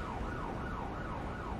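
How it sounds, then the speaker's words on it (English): Wailing emergency siren in a police driving video game, rising and falling in quick repeated sweeps, steady and fairly distant over a low engine rumble, with no talking. "Oh, I hear a siren."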